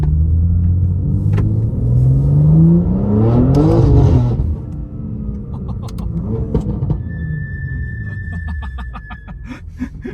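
A BMW G87 M2 tuned to about 700 horsepower accelerates hard, heard from inside with a deep engine rumble climbing in pitch through the gears, then settling to a steadier drone over road noise.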